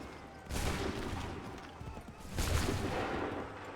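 Musket volleys in the video game Assassin's Creed 3, two dense bursts of overlapping shots crackling together, the second a little heavier, with a rumbling background between them.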